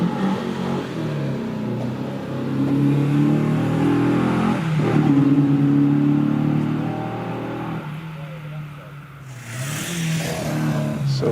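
A 2-litre Ford Fiesta rally car accelerates up a hillclimb at night. The engine revs hard and climbs through the gears at moderate distance, with a brief lull before it builds again.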